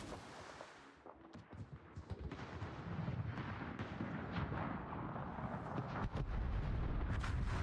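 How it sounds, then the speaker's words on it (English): Naval gunfire in World of Warships, the destroyer Shimakaze shooting its guns amid a dense battle soundscape of repeated booms and rumbling blasts that stay loud and continuous for several seconds. "Oh look, now the Shimakaze is using his guns."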